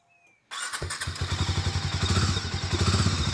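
A Harley-Davidson X440 motorcycle engine cranks and fires on the first attempt after the bike survived a 30-foot drop, settling into a loud, steady, close-up idle with a rhythmic throb and a slight mechanical clatter.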